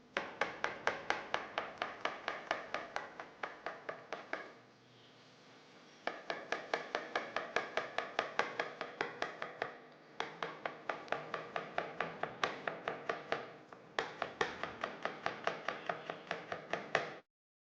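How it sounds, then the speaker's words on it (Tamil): A knife chops onions and other vegetables on a board in a kitchen, with fast, even, close-up knocks running in long bursts separated by short pauses. "இந்த வெங்காயம் இதெல்லாம் கொஞ்சம் கட் பண்ணிக்கலாங்களா?"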